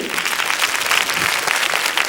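Loud, dense applause fills a 1981 French television studio audience on L'École des Fans with Annie Cordy, steady and continuous throughout with a faint crowd murmur beneath.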